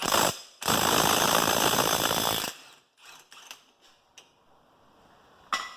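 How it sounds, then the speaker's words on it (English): Loud, continuous mechanical rattling from a ratchet working loose a tight front axle nut on a Grizzly 700 ATV, running steadily for about two seconds before stopping, then followed by scattered clicks and knocks. "See if we can get this axle nut off here."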